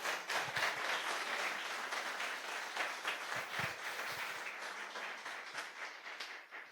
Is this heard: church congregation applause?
yes